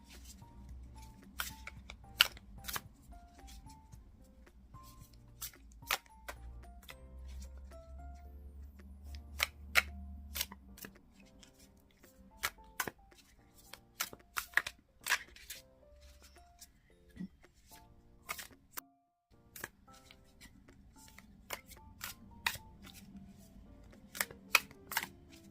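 Tarot cards shuffled and handled, with scattered sharp snaps and flicks of card edges at irregular intervals over a low background hum, some louder riffles among softer taps.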